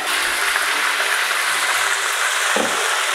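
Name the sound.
chicken frying in a pan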